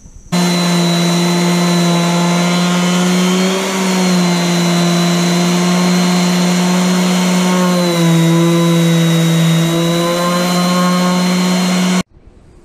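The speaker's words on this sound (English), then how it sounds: "when I'm done with the big stuff using the um, uh, random orbit sander" A random orbit sander works steadily over the metal body of a skoolie school bus, removing paint before priming. It makes a loud, close, continuous whining drone that wavers slightly for about twelve seconds, then stops abruptly.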